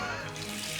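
Water from an old tap in a manor house runs into a sink, a steady, soft rushing stream heard at moderate distance.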